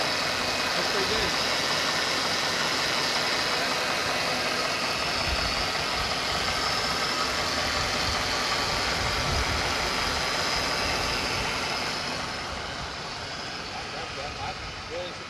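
A swapped-in Coyote 5.0 V8 in a Lincoln Continental runs steadily with a broad, dense rumble throughout, easing slightly near the end, while people talk over it.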